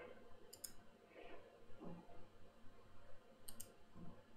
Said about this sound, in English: if I double click on this file